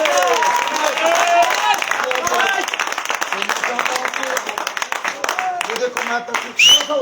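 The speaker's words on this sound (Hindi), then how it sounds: "जोरदार ताली" Loud applause and clapping from a crowd at a Down Town T20 cricket match, a dense rattling wash that swells and dips over several seconds with voices mixed in.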